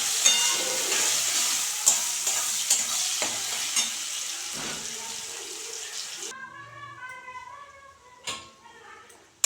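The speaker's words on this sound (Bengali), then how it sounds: "ফোড়নে তো বন্ধুরা এখন দুটো ছোট সাইজের পেঁয়াজ কুচি করে রেখেছি সেগুলো দিয়ে দিচ্ছি" Chopped small onions hit hot tempering oil in a pan, giving a steady crackling sizzle with stirring scrapes for several seconds before it thins out near the end.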